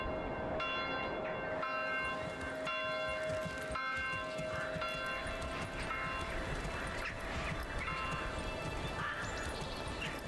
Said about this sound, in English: Thought we'd enjoy the church bell there for a moment as we enter the new year.